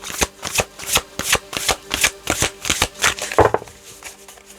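Tarot cards being shuffled in a rapid, crisp riffling rhythm of about a dozen close, loud flicks, with no talking.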